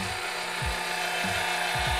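An Orbitalum RPG 4.5 tube facing machine trims the end of a tube, giving a continuous steady mechanical whir with short rasping scrapes as the cutter pulls chips from the metal.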